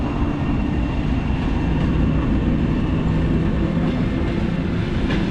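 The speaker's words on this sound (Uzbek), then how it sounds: "Bu poyezd qanaqa poyezd ekan?" A train rolls past near Gazalkent in the Tashkent region, a loud, steady rumble of wagons on the rails that fills the whole stretch with no talk.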